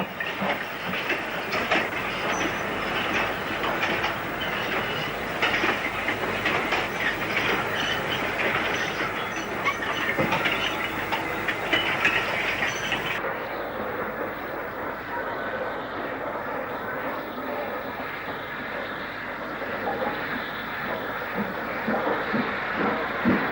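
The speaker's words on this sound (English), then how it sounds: "44910 arrives with a freight destined for the station yard" Steam locomotive 44910 arrives with a freight train, rolling wagons clanking and clattering over the rails with a steady hiss, loud and close, then quieter and more muffled toward the end.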